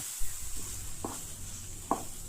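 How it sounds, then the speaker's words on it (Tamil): Egg poured into a pan of partly cooked chicken, producing a soft, steady sizzle with a few sharp scraping or stirring knocks, close and fairly quiet, with no talking. "கொஞ்சம் வெந்துட்டு இருக்கும்போதே ஒரு முட்டையை உடச்சி ஊற்றிடுங்க"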